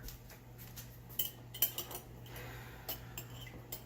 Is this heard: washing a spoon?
yes